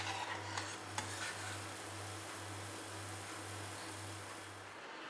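Wheat biscuits fry in hot oil with a steady, even sizzle, close and continuous alongside a low, pulsing hum, with no talking.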